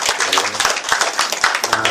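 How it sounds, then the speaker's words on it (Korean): Audience applause at a cross-generational community gathering, a dense, steady patter of many hands clapping together for about two seconds, fairly loud and even, with some voices mixed in. "여러분, 다시 한번 큰 박수 부탁드리겠습니다."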